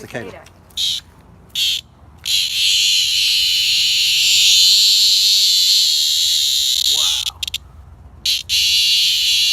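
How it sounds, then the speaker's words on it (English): A loud, sustained high-pitched buzzing drone of a cicada, briefly cutting in and out at first before holding steady, with a short voice-like sound partway through. "Cicada. It's the wings that make the noise"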